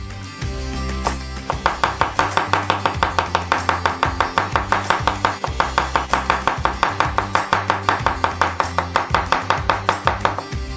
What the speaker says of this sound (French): Prenez 2 gousses d'ail. Écrasez-les et hachez-les.